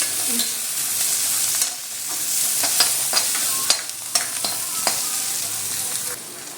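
Mint being stirred into a frying Maggi noodle masala in a pan: a continuous loud sizzle with repeated scraping strokes of a spoon, close up and without talk.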